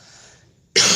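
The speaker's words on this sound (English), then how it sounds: "Excuse me for my cough" A single sharp cough bursts out near the end after a stretch of quiet room noise, loud and close.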